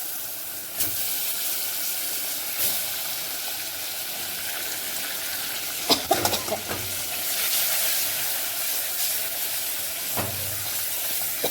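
Fish pieces go into a hot pan of red chili powder and chutney for a coconut fish curry, setting off a steady hiss and sizzle with a few sharp clatters and splutters partway through, close by and without talk.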